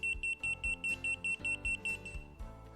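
A hidden-camera and bug detector beeps in a quick, regular pulsing rhythm, loud and close, about a dozen short high tones before stopping.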